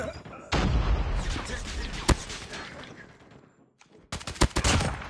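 Gunfire and a grenade blast in the shooter game Call of Duty Mobile, showing the Oden rifle: loud dense bursts of automatic fire with a sharp crack near two seconds, a brief lull, then more heavy shots toward the end.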